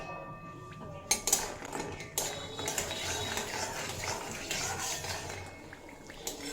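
Lentil dumplings (bori) frying in hot mustard oil: a continuous close hiss and bubble, with a couple of sharp clatters as pieces drop in or are moved in the pan.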